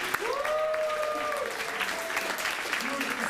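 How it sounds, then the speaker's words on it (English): A crowd applauds at a mock presidential inauguration event, steady clapping under cheering and whooping voices, with sliding vocal whoops rising above the patter. "give yourself a round of applause for the wonderful job you've done this year"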